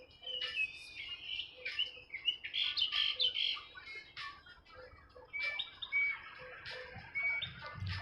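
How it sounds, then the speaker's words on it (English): Outdoors at sunrise in downtown Las Vegas, a nearby bird repeats bright chirps and calls in quick bursts, close and clear with little else around it. "This bird sounds like he's doing some kind of bird call."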